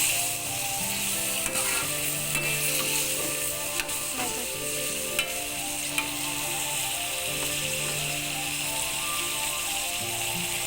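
Brinjal frying in a pan for fish curry, a steady bright sizzle with occasional clicks and scrapes as the pieces are gently stirred, plus a low hum in the kitchen behind it.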